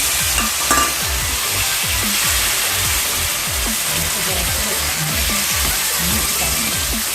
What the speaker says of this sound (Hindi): तो इस तरह कुछ देर तक इसको फ्राई करते हैं।